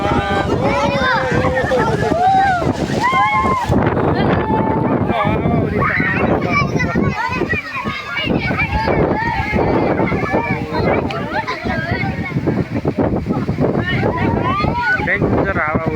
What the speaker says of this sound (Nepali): डेन्जर हावाहुरी